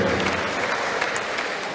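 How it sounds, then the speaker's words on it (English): A boxing event crowd applauds, a dense, steady wash of clapping that fills the hall and fades slightly toward the end. "let's give them a round of applause to all our boxers tonight"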